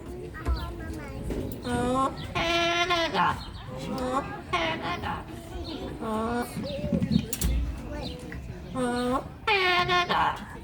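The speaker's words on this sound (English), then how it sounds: "A very patriotic but pretty off-key national anthem." A parrot sings a national anthem as a tuneful, off-key melody in repeated whistled phrases, with pauses between lines and some soft background noise.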